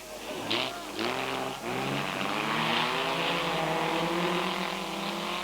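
Vintage race cars, a Jaguar and a Lotus Elan, racing wheel to wheel at a historic Grand Prix: loud rising engine drones with shifting pitch as the cars accelerate, continuous and close.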